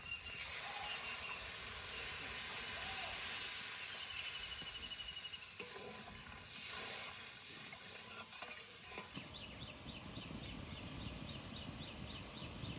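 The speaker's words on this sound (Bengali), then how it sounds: "এবার জল দিয়ে দেবো।" Water hits hot oil and ground spices in a pan while a Bengali fish curry is being cooked. A loud, steady broadband sizzle fills the clip, then turns into a sharper, bubbling hiss for the last few seconds.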